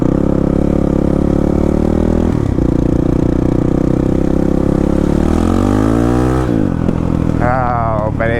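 Honda CRF450RL motorcycle engine, loud and close, holding a steady rumbling idle-to-mid rev, then dipping and surging as the throttle is punched, pitch climbing sharply in the last seconds.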